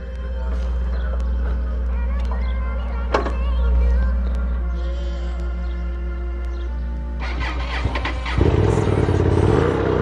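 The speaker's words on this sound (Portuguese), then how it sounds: "Primeira ligada nela, o motor tava frio." A cold motorcycle engine cranks and fires up, settling into a low, steady idle with a brief rise midway and a rougher, louder burst near the end, with no talk over it.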